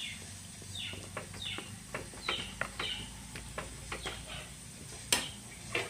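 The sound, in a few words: stirring salted bitter gourd in a pan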